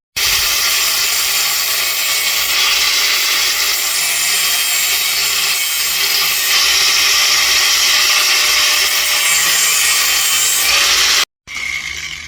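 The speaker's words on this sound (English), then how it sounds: "we're going to disc this off, weld it up, and hopefully that will solve the problem" An angle grinder cuts through the exhaust of a Toyota MR2, a loud, sustained, harsh metallic whine lasting about eleven seconds before it briefly stops and restarts.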